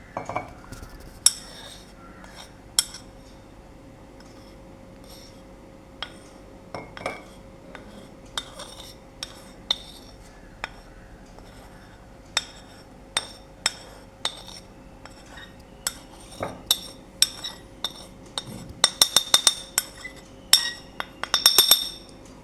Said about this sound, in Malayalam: ഇത് നമുക്ക് കട്ടയില്ലാതെ ഒന്ന് ഇളക്കിയെടുക്കണം ഇളക്കുമ്പോൾ തന്നെ അതിൻ്റെ കട്ടയെല്ലാം മാറി നന്നായിട്ട് വെക്കും